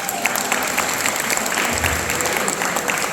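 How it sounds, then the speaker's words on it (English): Wedding guests at a reception clap in a round of applause, a steady, dense and fairly loud burst of many hands with faint crowd murmur underneath. "Give yourself a round of applause"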